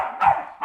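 A puppy gives two short, high yapping barks at a campsite, close to the listener, with a brief pause between them and no voices over them.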